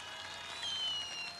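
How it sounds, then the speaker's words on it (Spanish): A short, steady wash of crowd applause rises at a ranch rodeo (jaripeo), heard from a moderate distance. "Chícharo de Yeca, el aplauso"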